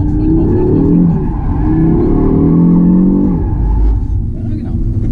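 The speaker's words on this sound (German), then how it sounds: "Mehr Gas, ne? Voll drauf, voll drauf, voll drauf, voll drauf." Audi performance car engine revving up hard at full throttle during a test drive, a loud sustained rising roar with shifting harmonic tones that drops off near the end, with people talking over it.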